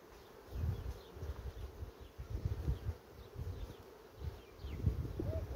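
Honey bees buzzing around an open hive, a dense drone that swells and fades in uneven pulses, with individual bees passing close, and no talk.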